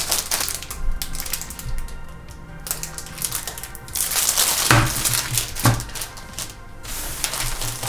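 Plastic wrap being pulled off a Razer Huntsman Mini 60% keyboard, close crinkling and crackling with scattered sharper rustles and thumps, irregular and continuous throughout.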